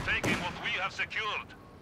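A Raketenwerfer anti-tank shell fires in Company of Heroes 2, one sharp blast near the start followed by lighter battle noise, all under quick live commentary.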